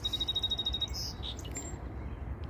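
A bird chirps faintly by a lake at sunset, with a thin, steady whistle followed by a few brief tweets over a low outdoor rumble.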